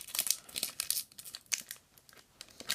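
Crinkling and tearing of a Pokemon Roaring Skies booster pack's foil wrapper as it is pulled open, a string of sharp, close crackles and rips in irregular bursts with no talking.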